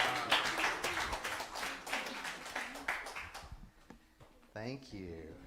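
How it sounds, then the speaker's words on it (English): Church congregation applauding newly welcomed members, a dense wash of clapping with voices mixed in that fades out midway, followed by a brief spoken voice near the end. "Give them a round of applause."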